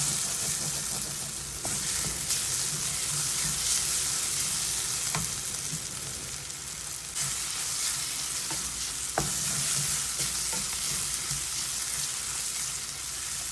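Onion and ginger-garlic paste sizzles in a pan for a chicken fry while a spoon stirs it. A steady close hiss runs throughout, broken by occasional scrapes and clicks of the spoon, with no talking.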